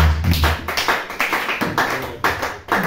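A church congregation claps in praise of the Lord: a loud, fairly regular run of hand claps, close and lively, with no voices over it.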